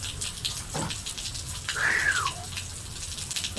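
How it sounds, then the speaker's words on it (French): Steady rain pouring down on a morning in Normandy, a broad, continuous hiss at moderate level with a brief rising whine passing midway. "Ce matin ça pleut à plein temps."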